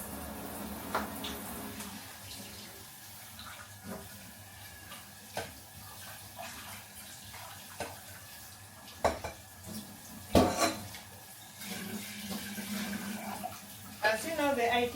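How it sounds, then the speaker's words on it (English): Boiled rice rinsed with water in a kitchen, with faint running water, clinks of pots and cutlery and a few louder splashes and knocks, steady low-level handling sounds throughout. "So at this point I have to rinse the rice."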